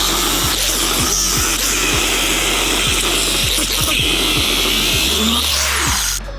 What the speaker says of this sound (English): here comes Simon with his grinder to take it all apart